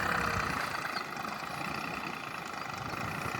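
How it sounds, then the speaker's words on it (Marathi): A tractor engine runs steadily at a low rumble while building bunds and levelling farm land, a continuous mid-loud drone with no pauses. "आता आमचं ट्रॅक्टरने बांध टाकायचं काम चालू आहे."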